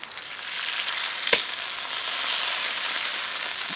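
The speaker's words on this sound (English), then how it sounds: "Still sizzling away," Bacon strips frying in a pan over an EcoZoom rocket stove give a steady, close hiss and crackle that holds throughout, with one sharp pop partway through and no talking.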